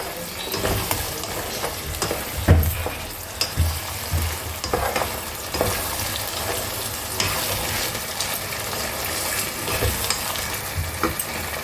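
Tomato paste sautéing for mutton korma in a pan over a high gas flame, a loud continuous sizzle and fry with scraping stirs and occasional knocks of the utensil against the pan, close and without talking.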